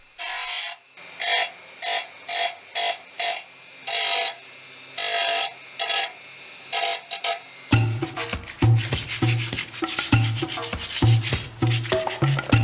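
Pieces of pink salt being polished by hand for decorative carvings and lamps, heard as rhythmic rubbing strokes in short regular bursts, then a denser scraping and grinding passage with heavier thuds, close and fairly loud.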